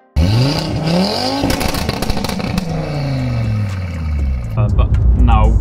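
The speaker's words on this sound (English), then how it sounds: "As good as a 5-pot sounds, this thing was, and I love a loud car, but this was overpowering." Stage 3 Audi TT RS MK2 with a five-cylinder engine and straight-pipe exhaust, loud and close, with rising and falling revs, a raspy drone and crackles, building again near the end.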